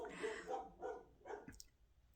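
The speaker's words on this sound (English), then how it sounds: "pardon my dogs" A few quick dog barks in succession, fairly close and moderately loud, with no talking.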